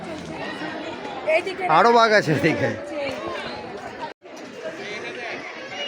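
A dense crowd of visitors chatters at Alipore Zoo in Kolkata, a loud, close babble of overlapping voices with one voice standing out in the foreground, broken by a brief dropout near the end.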